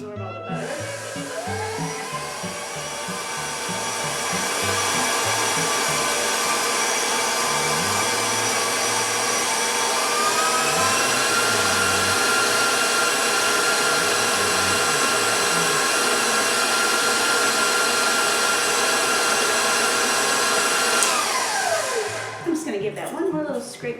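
An electric mixer creams butter and sugar for muffin batter, a loud, steady whirring drone that runs for most of the stretch, ramps up near the start and cuts off close to the end.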